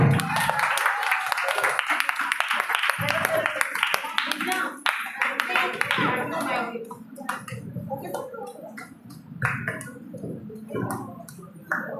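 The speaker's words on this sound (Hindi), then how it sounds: "सभी के लिए जोरदार तालियां।" Audience clapping after a play performance at a Jain temple in Pune bursts out and continues for several seconds, then thins out as a voice speaks over the fading applause.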